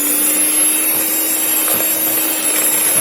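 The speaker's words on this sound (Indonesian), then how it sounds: "Di mixer lagi sampai tercampur." An electric hand mixer whirs steadily and loudly, beating palm sugar coffee sponge cake batter with milk, a constant motor drone with no breaks.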